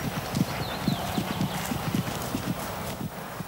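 Horse hooves cantering at speed over a cross-country jumping course, a steady rolling three-beat of thuds, close and clear, with no voices over them.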